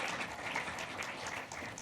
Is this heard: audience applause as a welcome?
yes